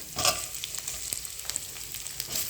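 Tomato going into a frying curry in a pan with ginger-garlic paste, a brief close burst of sizzle and crackle settling into a steady fry, quiet, no voices.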